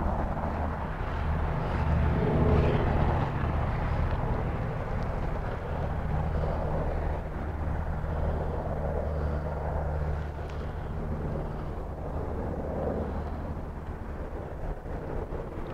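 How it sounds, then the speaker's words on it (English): A low, steady rumble of helicopters drones overhead, distant but continuous, with a faint throbbing rotor hum. "Helicopters."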